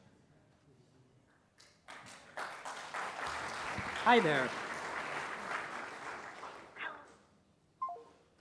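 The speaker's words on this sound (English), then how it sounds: "Because everyone was applauding" Audience applause from a crowd at a tech talk on building agents, a broad steady wash of clapping lasting several seconds, with a brief spoken greeting over it near the start.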